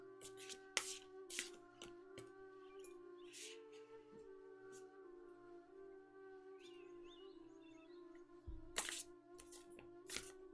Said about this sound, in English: I'm shuffling the way I never really shuffle these cards